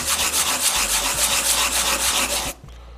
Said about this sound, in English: just take a sanding block and just start sanding it down until you get a nice even surface